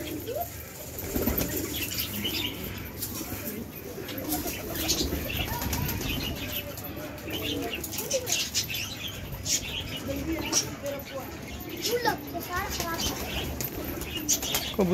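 Released pigeons taking off and flying about, with repeated bursts of wing flapping mixed with soft cooing and rustling, while people talk nearby throughout.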